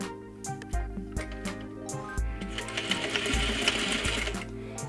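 A sewing machine stitches a curved trouser fly seam in short bursts, its rapid mechanical whirring starting and stopping several times, then running more continuously, close and clear.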